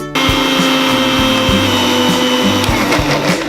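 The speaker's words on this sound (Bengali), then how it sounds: "এবার মিক্সির ঢাকনাটা বন্ধ করে চালিয়ে নেব" An electric mixer grinder whirs steadily, grinding soaked biuli dal into a paste. The motor drone stays loud and continuous, with faint periodic knocks as the jar contents churn.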